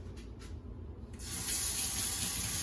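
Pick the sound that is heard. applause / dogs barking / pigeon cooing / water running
water running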